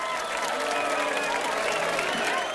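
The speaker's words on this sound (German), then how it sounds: "Applaus und Buhrufe." Continuous crowd noise of clapping and jeering voices in a video game, steady and dense throughout, with no clear gaps.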